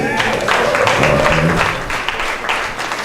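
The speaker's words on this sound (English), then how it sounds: "One more round of applause," Another round of clapping from wedding guests following toasts to a couple, moderately loud, scattered applause blended with voices and crowd murmur.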